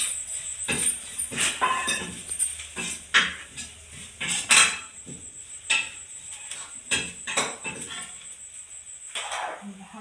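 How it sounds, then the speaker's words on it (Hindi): Mashed chokha is stirred with chaat masala in a metal pot, a spoon scraping and clanking against the sides in irregular close strokes, with no talk. "हम इसमें यही डाल देते हैं, चोखा अच्छे से मिला देंगे।"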